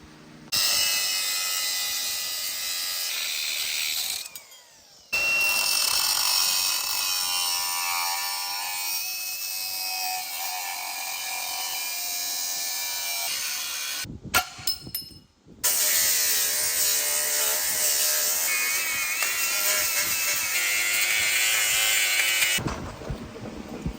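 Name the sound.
power tool cutting off a Geo Tracker body mount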